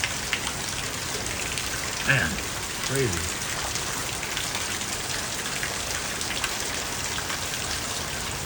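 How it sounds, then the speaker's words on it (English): Rain pouring steadily during a big storm, a dense constant hiss throughout, with someone speaking briefly in the middle. "And here comes the rain again."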